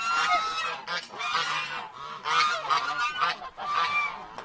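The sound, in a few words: geese honking in goose shed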